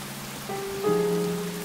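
Steady rainfall in the video game rain, a soft hiss of rain on surfaces that persists beneath sustained musical tones, which enter and grow louder partway through.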